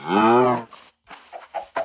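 A long, loud moo rings out, followed by several shorter, softer animal grunts and clucks in quick succession, from cows in Minecraft.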